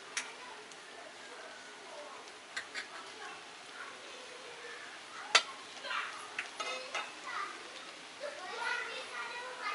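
Homemade street-style veg chowmein noodles stirred and mixed with chilli sauce, ketchup and Schezwan chutney in a pan: a soft sizzle runs under scattered clicks and taps of the utensil, with one sharp knock midway, faint and close.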